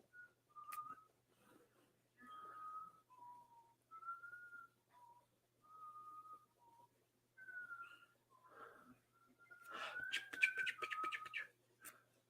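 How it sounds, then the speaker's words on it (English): A pet bird named Peach whistling indoors, giving faint, clear single-note whistles spaced several seconds apart, then a brief burst of busier chirps near the end. "And then I hear Peach whistling."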